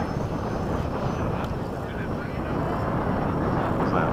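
RC model jets fly past, an FMS 70mm F/A-18 chasing a Freewing 90mm 8s F-22. A steady, loud ducted-fan roar fills the air, with voices talking faintly beneath it.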